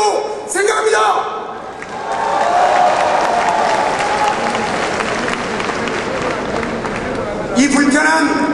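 Audience applause fills a political party leadership rally in Seoul, a dense, sustained clapping crowd heard close and loud for most of the stretch, with brief quieter gaps near the start and end.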